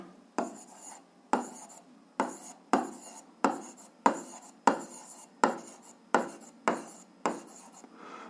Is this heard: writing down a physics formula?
yes